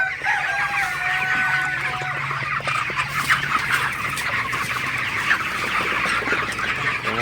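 Broiler chickens, 32 days old, cluck steadily in a dense, close chorus, with a few higher calls and a faint crow standing out over the constant flock noise.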